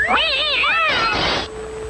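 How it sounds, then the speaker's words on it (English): A 1960s Fractured Fairy Tales cartoon cat lets out a loud, wavering yowl that sweeps up and down in pitch, then breaks into a rough, noisy screech as it is flung through a window. "Who threw the cat through the window?"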